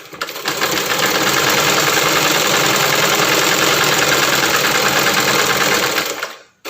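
A sewing machine runs steadily while stitching a churidar hem, its close, loud, even whirr continuing for about six seconds before stopping abruptly.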